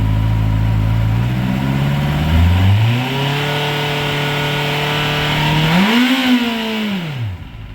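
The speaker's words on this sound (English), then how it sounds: "I'm going to be revving it to 5000" A 2021 Honda CB650R motorcycle engine idles up loudly, climbs steadily in revs and holds there, then blips higher once before dropping back toward idle.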